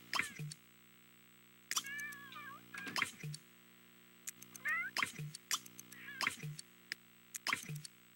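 Cats meow repeatedly at close range, several drawn-out calls spread across the stretch, mixed with short sharp knocks and clicks between them and near-silent pauses.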